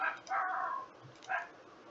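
A neighbor's small dog barks outdoors, two sharp barks a second apart, somewhat distant and fairly faint against quiet background hiss.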